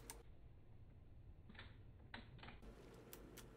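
Keyboard typing during a Minecraft session: a few quick clustered key clicks in short bursts, fairly close, over a low steady background hum, no talk.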